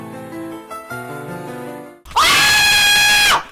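Loud, sustained screaming from characters in a video game bursts in after a stretch of tonal game music, holding steady for over a second before cutting off.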